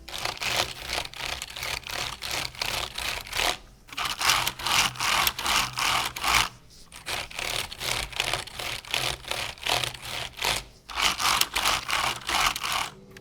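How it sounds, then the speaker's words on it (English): Typing on a Corsair K70 RGB Mk2 keyboard fitted with Cherry MX Red switches, a close, steady run of rapid light key clicks and clatter with a few short pauses, no voices. "the key chatter is very noticeably worse on the K70 with the Cherry MX Reds"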